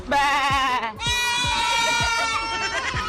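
A man mimics goats with a run of loud, wavering nasal bleats, several cries in quick succession with sharp breaths between them, close and clear.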